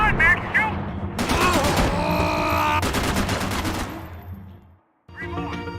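Gunfire in Max Payne 3 arrives in loud bursts: quick volleys and a sustained machine-gun rattle, then a brief silence before a few more shots, with game voices speaking around them.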